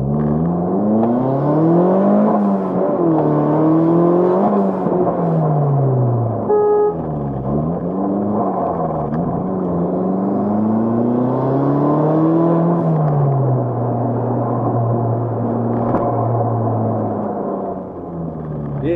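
A turbocharged 1ZZ-FE engine in a Lotus Elise S2 revs and pulls hard through rising and falling gears, loud and close from inside the car, with a brief tonal chirp midway.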